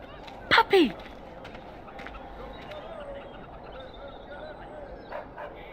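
A dog barks in the fantasy role-playing video game Dragon Age: Origins, two quick sharp yips close together near the start, then a quiet backdrop of faint ambient game sound.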